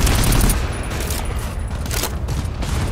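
Rapid gunfire in the co-op shooter game GTFO, a loud dense volley of shots that keeps going through the whole short stretch with no voices.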